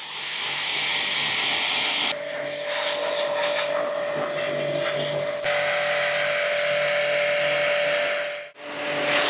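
Water sprays over a 2026 Kawasaki KLX230 RS motorcycle in a loud, steady, close rushing hiss that shifts in tone as the jet moves, with a brief dropout near the end.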